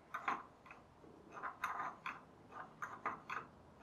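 A wooden automaton's gearbox and pulleys, turned by a crank handle, give soft clicking and ticking mechanical bursts in uneven clusters, faint and close, with no voices.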